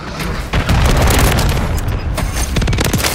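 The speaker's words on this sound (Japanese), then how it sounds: "味方空爆ナイス" A friendly airstrike explodes in the Call of Duty: Modern Warfare III video game, a loud sustained rumble of booming blasts filling the whole clip with a few sharper bursts near the end.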